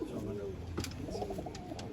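A small young pigeon in a loft coos softly several times, close and low, against a steady murmur of background noise.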